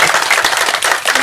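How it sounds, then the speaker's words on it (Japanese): Audience applause at a Japanese film stage greeting for the horror-tinged feature PARALLEL, a dense, steady wash of clapping from a theater crowd filling the whole moment. "拍手"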